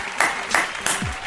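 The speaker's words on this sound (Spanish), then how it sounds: "aplauso." Applause sound effect played on a Spanish-language podcast from San Francisco El Alto, a short burst of clapping with a few sharp accents, brief and fairly close.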